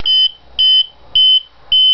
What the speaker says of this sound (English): you get a pulsing, very loud buzzer